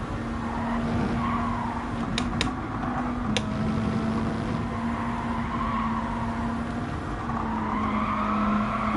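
Tires squeal as a car understeers in the racing game Gran Turismo 7, a long sustained squeal over a steady engine drone with a few brief sharp clicks.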